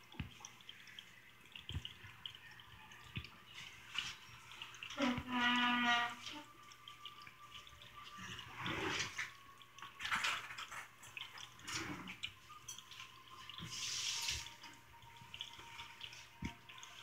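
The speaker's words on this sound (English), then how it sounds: "Yeah, it's water." A pet drinking fountain trickles and drips quietly and continuously, with scattered small splashes and a few brief louder bursts.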